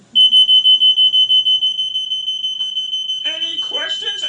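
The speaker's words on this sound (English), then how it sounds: "Can we hear the smoke detector once more?" A household smoke detector sounds a rapid train of about a dozen loud, piercing high beeps in even rhythm, then keeps beeping more softly as a person starts talking over it.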